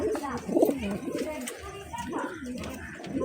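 Pigeons coo in soft, repeated low throaty phrases, close by, with a rustling background.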